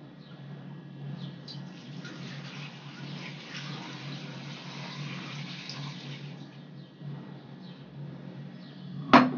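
Water pours steadily into a cooking pot holding fish heads for a Lebanese sayadeyeh, a soft, close splashing trickle in a quiet kitchen that ends with a short sharp knock at the finish.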